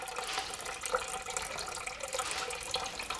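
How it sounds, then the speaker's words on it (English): Water pouring into a finished French drain trench around a basement perimeter being waterproofed, a quiet, steady splashing trickle with faint irregular spatters, heard nearby with no talking. "you can hear the water pouring in"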